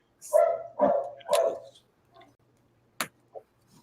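Dogs bark three times in a quick, loud, close run, followed by a couple of fainter, shorter yips and a soft click in an otherwise quiet room.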